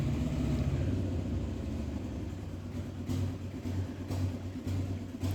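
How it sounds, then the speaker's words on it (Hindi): Road traffic passing nearby, a low rumbling engine drone that swells and fades as vehicles go by, with several short louder surges in the second half. "गाड़ी आवाज़ बहुत आ रही है।"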